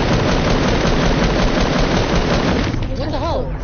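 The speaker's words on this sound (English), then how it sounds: "Guys, stop shooting it, please." Loud, dense, continuous automatic gunfire in a PS4 video game, overlapping shots blending into a heavy roar that only eases in the final second as a brief voice comes through.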